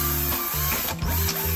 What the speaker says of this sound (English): Here, I'm drilling the holes for the rear bump stops